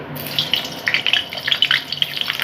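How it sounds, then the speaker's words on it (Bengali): Potato pieces frying in hot oil for a quick chicken curry, with a steady sizzle and quick bursts of crackling and popping spread across the clip, fairly loud and close. "আমার তেল গরম হয়েছে আলুগুলোকে একটু ভেজে নিচ্ছি"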